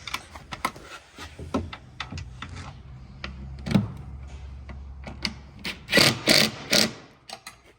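A wrench works a nut on the back side while a half door is fitted to a CFMOTO UFORCE 600, giving close, irregular clicks and metallic ratcheting taps with a few louder clunks near the end.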